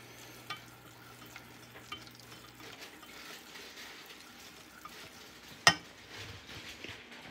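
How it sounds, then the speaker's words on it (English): Soft, steady sizzling of cheese sauce in a pan over low heat, with light scraping and a sharp clink or two as it is stirred. "I guess it is sizzling a little bit."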